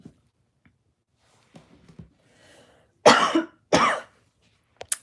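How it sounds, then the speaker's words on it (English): Two loud, harsh coughs in quick succession, close up, after some quiet rustling and small sounds. "started coughing"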